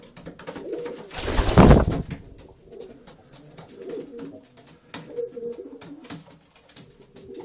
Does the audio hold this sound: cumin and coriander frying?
no